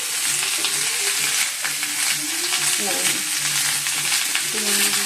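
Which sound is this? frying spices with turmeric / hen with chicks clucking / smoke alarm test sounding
frying spices with turmeric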